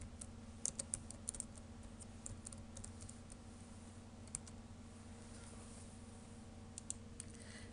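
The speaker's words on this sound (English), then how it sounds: "I just type in the word Icebreakers." Sparse, light keystrokes on a computer keyboard while a word is entered into a game design program, quiet clicks in small bursts over a steady low electrical hum in a still room.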